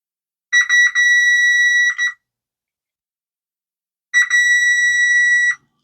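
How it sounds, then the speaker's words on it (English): Multimeter continuity beep while testing a fuse during restoration of a Revox B77 MK II tape recorder: two loud, steady electronic tones, each about a second and a half long, separated by silence. "I'll just do a continuity test."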